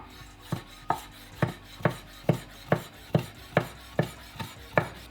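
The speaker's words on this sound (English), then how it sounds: "So for the bacon, I'm going to cut Julienne." A knife cutting bacon into julienne strips on a board, a dozen crisp evenly spaced chops in a steady rhythm, close and clear with no talking.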